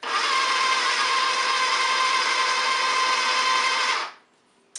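A blender whirs continuously at high speed mixing pesto ingredients, loud and steady for about four seconds before cutting off abruptly, leaving near silence and no speech.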